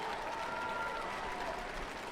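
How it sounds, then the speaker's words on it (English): Crowd at the 2019 Montreal Judo Grand Prix cheering and applauding after a judo match, a steady wash of clapping and shouts filling the arena with no pause. "So the crowd loving it."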